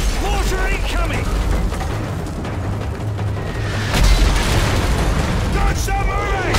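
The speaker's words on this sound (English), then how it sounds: "Mortar incoming." Mortar explosions land in Call of Duty: Modern Warfare 3, deep booms rumbling under continuous battlefield noise and radio chatter, with a heavier blast near the middle of the clip.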